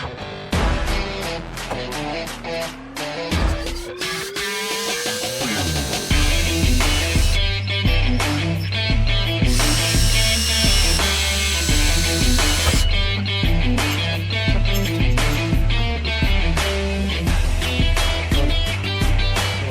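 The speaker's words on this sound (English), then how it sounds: "let's see if I can get these holes drilled." A power drill bores holes to mount a Magnafuel 4303 dual fuel pump, whining loudly and continuously at close range with steady buzzing tones and a rising pitch as the bit spins up.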